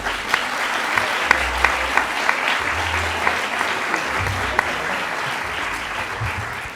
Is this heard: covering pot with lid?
no